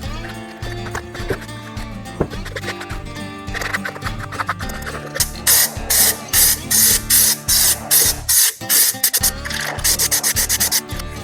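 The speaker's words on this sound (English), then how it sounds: "I'm gonna wipe these down, and then we'll spray the developer" Repeated short bursts of aerosol dye penetrant developer spray hiss onto cylinder heads, about a dozen quick pulses in a steady rhythm, close by, after a stretch of quieter rubbing and handling noises.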